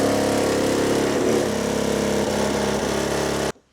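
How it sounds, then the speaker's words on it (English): An angle grinder cuts metal on a supercharged Mini, a loud steady high-pitched whine under load that holds for about three and a half seconds and then cuts off abruptly. "I'll just cut it with grinder."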